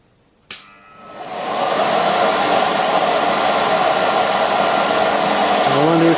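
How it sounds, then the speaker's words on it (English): A blower aimed at a horizontal-axis wind turbine fitted with a venturi, four feet from the turbine axis, starts with a sharp click, then its roaring rush of air swells and holds loud and steady, with a low hum rising near the end. "This test is done with the blower 4 feet away from the centre of the turbine axis and the Venturi fitted."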